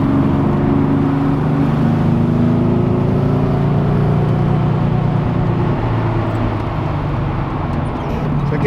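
A 356 outlaw car drives at a steady pace through a suburb, heard from inside the cabin. Its engine gives a loud, continuous low drone with road rumble, and the tone stays fairly even throughout.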